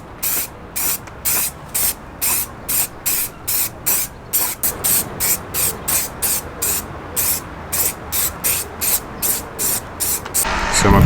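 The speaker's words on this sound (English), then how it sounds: "I'm just using this clear lacquer spray paint" Rapid, evenly spaced bursts of aerosol clear lacquer spray on a Mk2 Focus ST, about two short hissing blasts per second, loud and close, with no talking.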